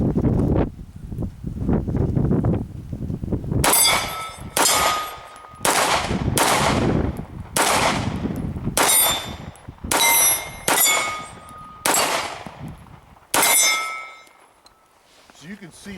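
A Sig Sauer P226 MK25 pistol fires at steel plates about 15 to 20 yards away, around nine sharp shots at a quick, fairly even pace, each followed by a bright ringing clang, after a stretch of low outdoor rumble.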